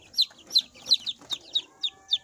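A joper hen clucks in a run of about eight short, sharp calls at a fairly regular pace, close and clear against a quiet background.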